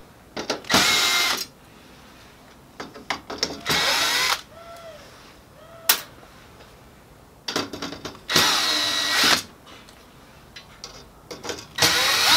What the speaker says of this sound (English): Remove the four screws and remove the guides.